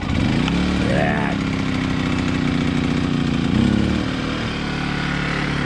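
A small gasoline engine, used for a tree removal job, runs steadily after a choke start, a loud close continuous drone with a brief rise in pitch near the start and another mid-way.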